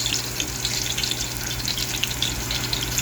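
Garlic fries in hot oil in a pan on a home stove, a dense, continuous close-up sizzle and crackle that holds steady throughout, with no voices.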